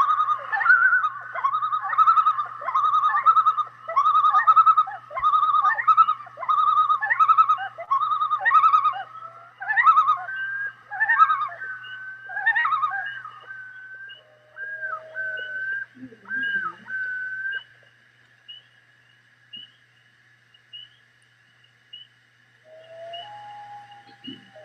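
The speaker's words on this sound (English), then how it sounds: "this is going to be a common loon" Common loons call across a lake in central Maine, at least two birds, with a rapid wavering tremolo of repeated notes that fades into long, clear, mournful wails, loud and echoing with no talk.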